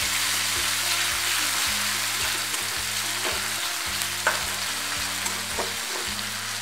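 Radish pod curry with tomatoes being stirred in a pan over lowered heat: continuous close sizzle with repeated scraping strokes of a spoon against the pan, no talking.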